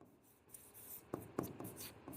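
Chalk or marker writing on a board during a classroom English grammar lesson, a few faint scratchy strokes and taps, quiet and close, with no speech.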